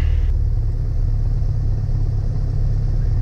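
A light aircraft engine idles at about 1000 rpm during the shutdown checklist. A steady low drone carries on without a break, with no voices.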